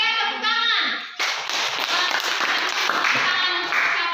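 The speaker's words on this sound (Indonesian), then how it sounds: "Oke, tepuk tangan." Classroom applause as students clap together, starting abruptly after a second of children's voices and continuing as a steady, dense patter to the end.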